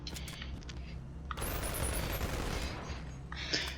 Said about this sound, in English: I'm not used to double SMG. And they both load, which is amazing.